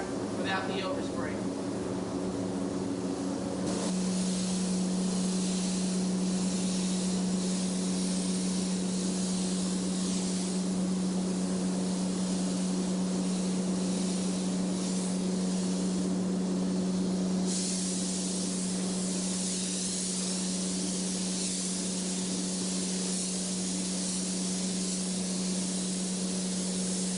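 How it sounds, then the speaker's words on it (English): Airbrush spraying Tangerine and Spanish Gold candy paint for realistic flame artwork, a steady continuous hiss that runs throughout and brightens partway through, with a constant compressor hum underneath. "Just put a light coat from the Tangerine into the Spanish Gold, just to even everything out."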